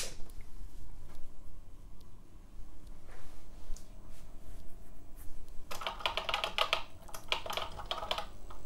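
Keys clatter on the reconnected keyboard of an EG 2000 Colour Genie home computer, starting as faint scattered taps and rising into a burst of quick, close clicks over a steady hum.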